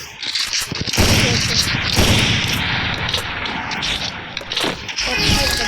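Sniper rifle fire from an AWM in the game Free Fire, several loud sharp cracks about one second apart, each followed by a ringing decay, over a steady busy game backdrop.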